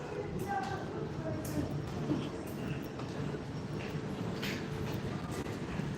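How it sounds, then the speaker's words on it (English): A train rolls past on a Moscow morning, its steady rumble and rail noise filling the scene at moderate distance with faint clicks on top, continuous throughout while a voice speaks now and then. "Is that the second train?"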